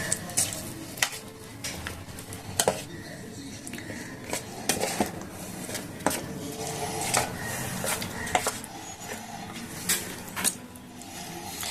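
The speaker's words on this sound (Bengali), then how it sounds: "এখন দেখুন গুড়ের আচারে সব মশলাগুলো মিশিয়ে নিচ্ছি" Spices mixed into a jaggery mango pickle, the spoon scraping and clicking against the container in repeated sharp strokes over a wet, sticky churning, close and steady throughout.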